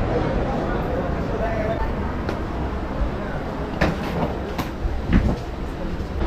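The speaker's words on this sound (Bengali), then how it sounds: "ট্রেন অলরেডি স্টেশনে ঢুকে গেছে" A train stands rumbling at a station, a low steady drone with occasional metallic clanks and knocks, and muffled voices in the background.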